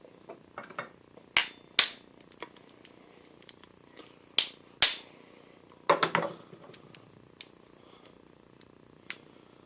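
Several sharp metallic strikes ring out at irregular intervals in a workshop, a few single hits and a quick burst of rapid blows, with quiet pauses between.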